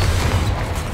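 A Confringo blasting spell going off in the Hogwarts Legacy video game: a loud, sustained booming explosion with heavy low rumble throughout, close and steady, fading only slightly at the end.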